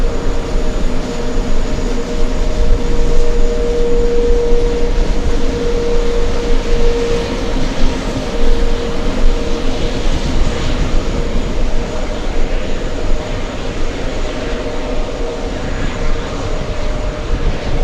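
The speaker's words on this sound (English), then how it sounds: "some great sounds coming from those Rolls-Royce engines" Rolls-Royce aircraft engines run with a loud steady roar and a sustained droning hum, continuous throughout at an airport with no talk over it.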